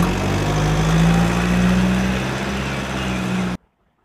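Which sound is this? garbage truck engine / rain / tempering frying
garbage truck engine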